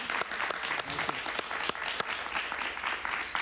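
Studio audience applauding a singer at the start of a televised interview: a steady, dense wash of clapping with a few sharper claps standing out, moderately close and continuous throughout, with no talk over it.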